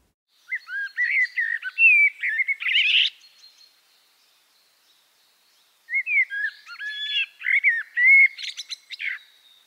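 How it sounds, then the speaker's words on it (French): A common blackbird sings two clear fluted phrases separated by a few seconds of silence, each ending in higher squeaky twitters; close and distinct. "c'est le merle noir"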